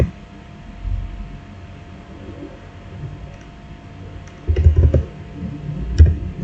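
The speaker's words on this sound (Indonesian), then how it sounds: "kemudian kita ketik lagi enable" Keystrokes on a computer keyboard while entering Cisco router commands, a sparse few light clicks at first, then a denser burst of typing and a final tap, close and fairly quiet over steady background hiss.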